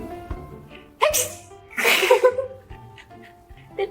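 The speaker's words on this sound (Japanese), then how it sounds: "くしゃみかわいすぎ。" A single sharp sneeze bursts out close by, preceded by a smaller nasal catch, with quiet breathing and soft voices around it.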